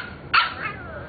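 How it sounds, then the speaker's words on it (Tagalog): A puppy gives a single short, bright bark close by, followed by a brief whimpering trail in an otherwise quiet moment. "Yun ang tuta."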